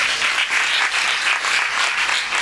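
Church congregation clapping in a meeting, a dense, steady round of applause filling the whole moment, close and loud with no talking.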